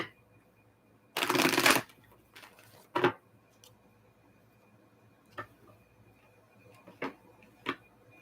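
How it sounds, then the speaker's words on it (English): A quick riffle of a fairy-themed card deck being shuffled, followed by a few soft, scattered clicks and taps in an otherwise quiet room. "Let me shuffle these just a little bit."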